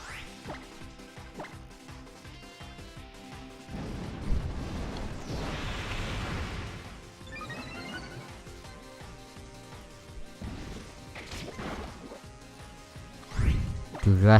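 A burst of wet, crashing impact from the Acid Bomb attack in Pokémon Ultra Sun, swelling around the middle amid game music and fading, with someone talking over the battle.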